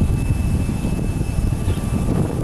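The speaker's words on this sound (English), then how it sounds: "this is definitely a bigger aircraft" A bigger aircraft landing at Aurora Municipal Airport gives a loud, steady, close engine roar with a deep rumbling low end and a thin high whine running throughout.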